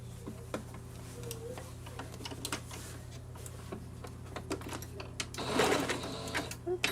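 A home sewing machine runs a straight seam to close a casing on a baby Moana costume, giving a faint, steady, fast ticking under a low background hum, with a slightly louder burst near the end.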